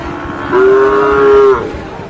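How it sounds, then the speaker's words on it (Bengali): A pied Sahiwal bull lows once at a busy cattle market, a loud, sustained tonal moo of about one second rising out of steady crowd murmur and fading back into it. "আর এখানে দেখছিলাম একটা পাকড়া শাহিওয়াল ষাঁড়"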